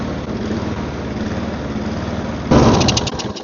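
A small engine, left outside and just repaired with its spark plug refitted, is pulled over with a low rumbling crank. It suddenly catches and roars louder, running roughly close by.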